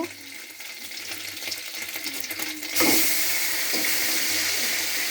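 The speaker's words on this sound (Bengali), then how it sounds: "এখন আমি মাছগুলো অল্প অল্প করে দিয়ে ভাজবো" Small fish dropped a few at a time into hot oil in a pan, giving a steady loud sizzle and crackle close by that grows louder partway through as more fish are added.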